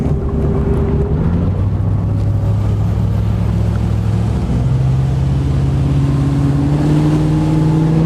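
A Crownline 225 LPX motorboat engine idles low, then climbs in pitch as it accelerates on the water, its steady drone rising and holding loud and close.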